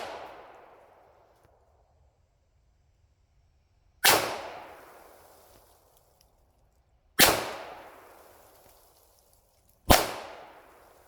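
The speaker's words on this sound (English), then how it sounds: "We're gonna shoot with the Taurus 4 rounds" A Taurus 1911 pistol is fired at a target about 10 yards away: sharp, loud single reports spaced a few seconds apart, each trailing off in a long echoing decay. The clip opens on the fading tail of one shot.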